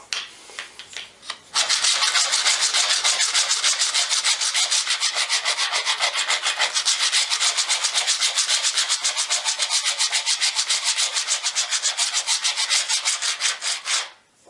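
A hand grout scraper rasps back and forth along tile joints, a fast, rhythmic scratchy rubbing close by, starting after a few light scrapes and continuing steadily for about twelve seconds before stopping, with no voices.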